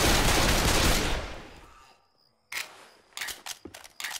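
A weapon is reloaded in the zombie shooter Left 4 Dead 2 after a loud burst of gunfire fades out, followed by several sharp mechanical clicks and clacks close up.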